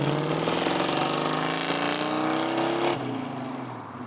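A classic restored Dodge car being driven, its engine a steady loud drone with rising pitch as it accelerates, then easing off near the end; no talking.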